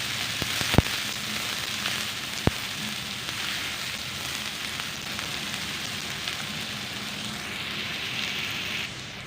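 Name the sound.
onions sautéing in oil in a pan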